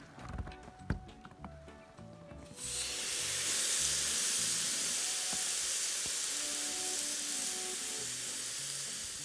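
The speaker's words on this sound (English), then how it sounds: "the seasoned pork with the rub is ready to go onto the barbecue" Rub-seasoned pork chops go onto a barbecue grill: a few quiet knocks and clatters come first, then a loud, sustained hiss and sizzle that holds steady to the end.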